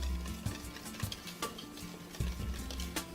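A spatula stirs vanilla extract and melted butter into a custard in a pot, giving soft scraping swishes punctuated by light clinks and taps against the pan at an irregular rhythm, close by and quiet, with no talk.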